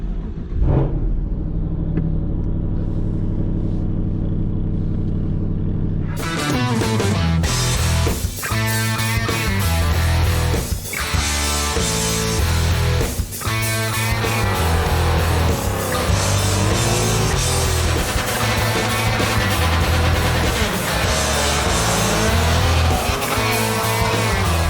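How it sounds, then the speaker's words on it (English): Cold start of a modified Dodge Challenger R/T with a 5.7 engine, heard from inside the vehicle: starter whir, then a loud rumbling idle with revving surges that stays strong and continuous. "we're going to start off with a cold start"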